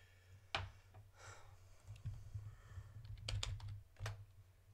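Quiet keystrokes as a password is typed on a computer keyboard under Fedora 33, a few scattered clicks and a short burst of taps over a low steady hum.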